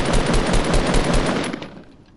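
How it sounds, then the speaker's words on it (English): Rapid automatic gunfire in a video game, a loud, close burst of quick repeated shots that stops and fades into a short tail of reverb. "Look, there's someone shooting at us."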